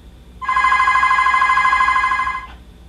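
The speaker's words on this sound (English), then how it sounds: "Telephone." A single electronic telephone ring sounds for about two seconds, a bright, buzzing trill, loud and close, then stops.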